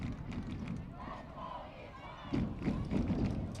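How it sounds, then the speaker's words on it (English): A crowd at a high school varsity football game cheers for its team from the stands, a distant rumbling roar of voices that swells louder midway through. "Crowd cheering their team."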